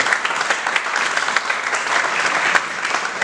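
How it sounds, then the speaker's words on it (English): A hall audience at an MBA and BBA orientation event claps for the vice president of firstnaukri.com, producing a sustained, even burst of applause that stays fairly loud throughout. "Give a huge round of applause to him."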